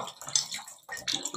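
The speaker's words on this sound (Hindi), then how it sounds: "ये देखें यहाँ से पानी निकल रहा है अपना" Water runs out of an electric geyser under repair, a broken splashing flow with a short pause in the middle, close and fairly steady.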